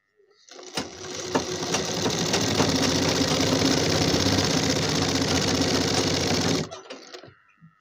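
An electric sewing machine, just repaired for thread tension, starts up and runs at a steady fast rhythmic clatter for about six seconds before stopping, close and loud with no talk.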